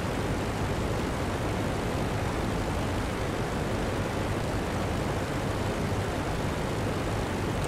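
Steady, unbroken engine drone and rushing wind of an Albatros D.Va biplane cruising on the downwind leg in a flight simulator, loud and constant throughout with no talk over it.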